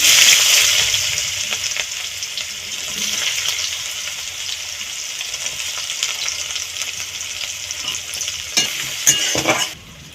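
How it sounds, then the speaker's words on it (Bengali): Onions sizzle in hot oil in a pan with bay leaves, dried red chilli, whole cumin and whole garam masala while being stirred, for a chicken kosha. A steady, close, loud frying hiss runs throughout with brief scraping bursts near the end. "আদা রসুন বাটা ভালো করে ভেজে নেব"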